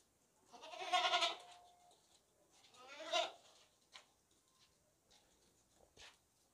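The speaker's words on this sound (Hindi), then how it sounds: "ये बकरा है भाई, ये देख लें अच्छी तरह, टांगे मोटी, ऊंचा खूबसूरत बकरा पठोरा है" A tall, thick-legged pathora billy goat bleats close by, two clear drawn-out calls a couple of seconds apart, followed by faint scattered clicks and shuffles in a quiet setting.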